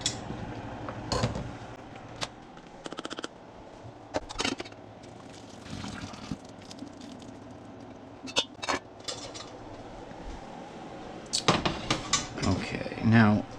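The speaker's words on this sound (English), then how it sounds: "we're going to drain the potatoes and get them mashed and set aside" Boiled potatoes are drained and mashed in a pot for shepherd's pie, with scattered metallic clanks, scrapes and knocks of utensils against the pot, sparse at first and then busier and louder near the end, while a person talks.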